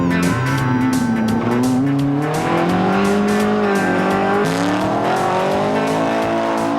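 Rally cars in the 1999 Targa Tasmania pull away from the start on a street course, engines loud and near, revving through rising and falling gear changes with tire squeal, no voices.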